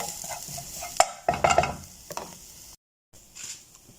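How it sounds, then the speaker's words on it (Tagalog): Ingredients with baharat spice sautéing in a pan, a soft sizzle under sharp clattering scrapes and knocks of a utensil, a brief silent gap, then more stirring. "Ayan, igisa-gisa lang natin siya."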